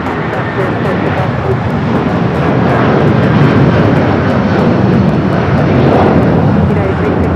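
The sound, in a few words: airliner taking off at LAX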